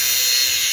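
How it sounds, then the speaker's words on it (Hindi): A power tool cuts into a concrete pillar at a construction site, a loud, steady, high-pitched grinding whine that holds without break. "इसको जो है यहाँ से कटिंग किया जा रहा है"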